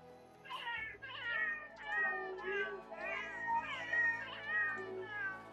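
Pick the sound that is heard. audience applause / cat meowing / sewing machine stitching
cat meowing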